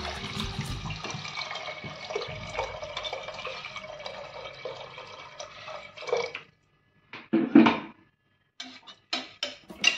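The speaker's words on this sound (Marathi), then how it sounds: "आता मध्ये त्यात टाकूया आपण आवश्यकतेनुसार पाणी।" Water poured into a pressure cooker of sprouted lentils for Nashik-style missal, a continuous close splashing pour lasting several seconds, then stopping, followed by a few separate drips and clinks of the pot.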